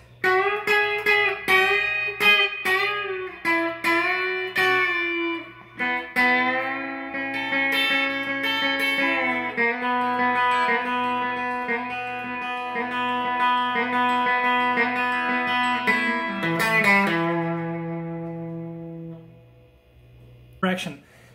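A full guitar passage of a ballad, played all together with picked melody and chords, a steady, clean-toned run of notes with sustained ringing stretches, close and alone.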